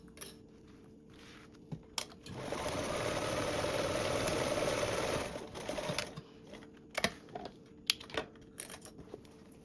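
A sewing machine runs a steady seam along the side of a tablet sleeve for about three seconds, framed by scattered clicks and fabric handling before and after.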